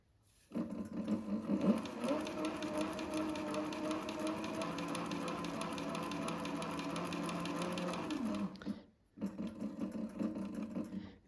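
A Cobra 26 leather sewing machine stitching at a faster setting, a steady rapid mechanical chatter that runs for several seconds, stops briefly, then resumes in shorter bursts.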